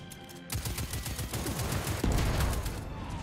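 Rapid automatic gunfire from the video game Destiny 2 rattles in a dense, continuous burst that starts abruptly and keeps up without pause.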